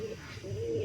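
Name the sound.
Beauty Homer pigeon cooing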